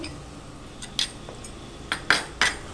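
A spoon stirring and sautéing masala paste in a pan, a few sharp metallic clinks and scrapes spaced across a quiet background, close and moderately loud.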